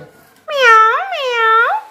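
A voice imitates a cat, giving two drawn-out meows in quick succession, close and fairly loud.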